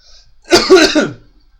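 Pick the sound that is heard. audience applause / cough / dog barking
cough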